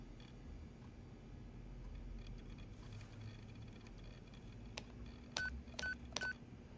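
A telephone keypad dials out a call: faint single beeps, then three crisp, evenly spaced touch-tone presses near the end over a low background rumble, quiet and close.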